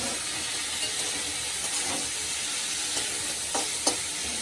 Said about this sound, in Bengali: উস্তেটা আমার ভাজা হয়ে গেছে